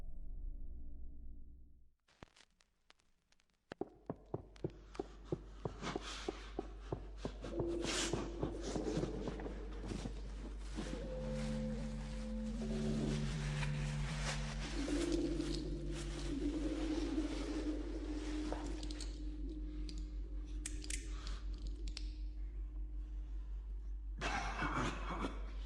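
Minecraft's eerie music disc from a dungeon chest plays as dim, static-laden noise with scattered footstep-like thuds and a low steady hum, swelling into a dense, uneasy wash before abruptly thinning out.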